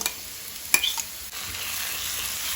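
Onion, green chilies and ginger-garlic paste sauté in a pan for Goan batata vada. A steady soft sizzle runs throughout, with a brief scrape of stirring near the start and no voices.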